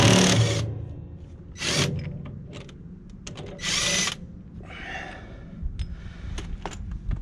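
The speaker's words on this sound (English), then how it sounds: "remove this bolt, which is a 14mm" Power tool backing out a 14mm bolt on a hydraulic pump: several short, loud high-pitched whirring bursts separated by pauses, with clicks and light metallic handling sounds close by.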